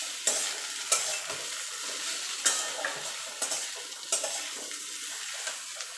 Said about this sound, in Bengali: এবার আমি নিম পাতাটা দিয়ে দেবো। দিয়ে ভালো করে বেগুনের সঙ্গে মিশিয়ে নেব।